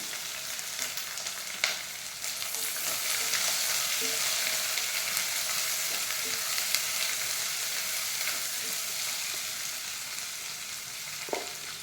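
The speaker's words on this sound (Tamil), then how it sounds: "ஆனியன் நல்லா வதங்கட்டும்" Onions sauté in a pan, a steady moderate sizzle with intermittent stirring scrapes and small clinks, no voices.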